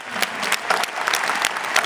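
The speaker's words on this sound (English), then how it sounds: "I think he deserves a round of applause for that." A short burst of applause from a crowd, steady clapping that is moderately loud.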